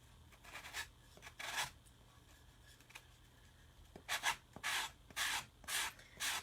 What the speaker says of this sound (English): just sand that paper right off the edge.